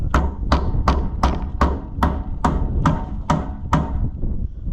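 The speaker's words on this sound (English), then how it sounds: "I gotta have a hammer." A hammer strikes a pin during a throttle cable replacement on a White 700 tractor, eleven sharp metallic blows in a steady, even rhythm, close and loud.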